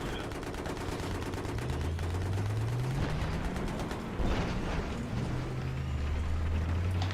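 Continuous rapid gunfire with rumbling tank engine drone underneath, dense and loud throughout, in a Battlefield 3 battle scene.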